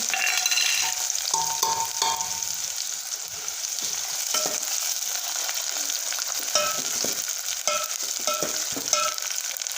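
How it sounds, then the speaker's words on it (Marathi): Onions frying in hot oil toward golden brown, a dense, steady sizzle with a bright hiss, close and loud, broken by repeated stirring scrapes, with no talking. "मस्त कांदा गोल्डन ब्राऊन होईपर्यंत भाजून घेऊत आपण"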